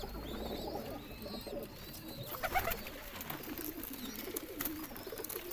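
Many pigeons coo in a loft holding about 170 breeding pairs, including golden varieties, with soft layered calls and some higher chirps overlapping steadily throughout, close and moderately loud.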